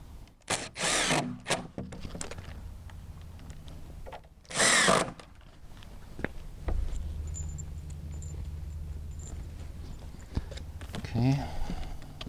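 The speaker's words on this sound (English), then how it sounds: "you're just wanting to put a screw in each and every hole" A power drill drives screws into the holes of a piece being assembled, with loud bursts of whirring separated by pauses, then clicks, handling noise and a low hum, close by.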